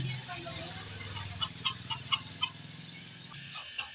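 A farmyard rooster is chased by a child, giving a run of short, sharp clucks and squawks at close range. Loud voices from the people chasing it run underneath.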